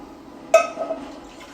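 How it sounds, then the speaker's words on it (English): One cup of water poured into a cooking pot, heard as a single short, close splash that quickly fades into quiet. "I want to add in 1 cup of water."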